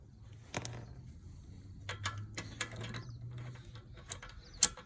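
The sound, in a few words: lug nuts on a car wheel being loosened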